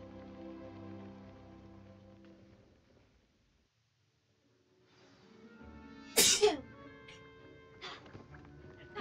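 A single sharp sneeze from a Hogwarts Legacy video game character bursts out after a stretch of quiet, over a soft background of music-like tones, with a few lighter sounds trailing after.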